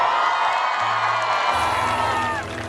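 Live comedy show audience in Jabalpur shouting and cheering loudly, a dense roar of many voices with whoops and a few claps, close and sustained before easing slightly at the end.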